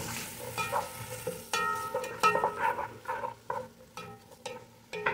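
Chopped red onions frying in a pan for a mung bean (munggo) dish with diced trevally, with steady sizzling and repeated stirring scrapes and clatters up close, no talking.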